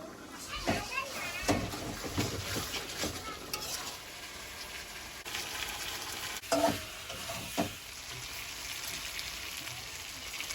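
Chicken fries and sizzles in oil in a pot while a Bengali curry cooks, with a spoon stirring and scraping in bursts over a steady crackle, close and fairly quiet.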